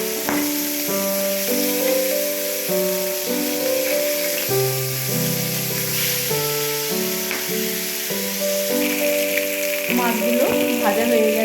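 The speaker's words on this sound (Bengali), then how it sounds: "এই দেখুন মাছগুলো লাল লাল করে ভেজে নিয়েছি" Pieces of pond rohu fish fry in mustard oil in a wok, giving a steady, close sizzle throughout while tonal music plays over it.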